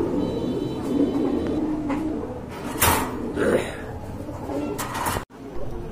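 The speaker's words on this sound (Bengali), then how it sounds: "এই যে দেখেন মাশাআল্লাহ খুবই চমৎকার এক জোড়া কবুতর" A pair of pigeons coo in soft low bursts from nearby, with rustling and handling noise around them and a sudden brief dropout near the end.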